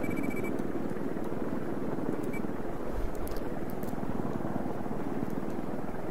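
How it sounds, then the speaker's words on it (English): An attack helicopter in the video game Battlefield 4 gives a steady, droning rotor and engine hum that holds at one level throughout, with faint in-game beeps. "Is this attack chopper in control?"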